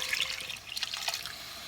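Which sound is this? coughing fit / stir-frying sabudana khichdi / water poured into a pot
water poured into a pot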